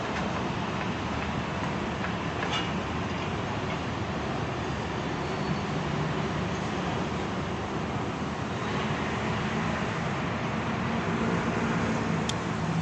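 A sky train passes as a steady, loud, continuous rumble and rush of wheels and motors, with no break in the noise over several seconds and no talk.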